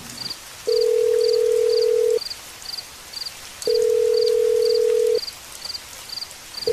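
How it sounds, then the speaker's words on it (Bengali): A phone rings out unanswered, sounding as long steady ringback tones in repeated pairs with a faint patter of rain beneath. "প্রতিবারই ফোনটা বেজে বেজে কেটে গেল।"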